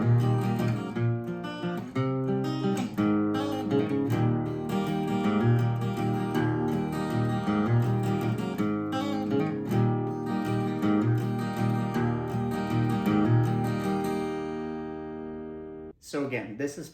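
Solo acoustic guitar plays the interlude of a song, with close, steady picked notes and chords throughout before it stops abruptly near the end.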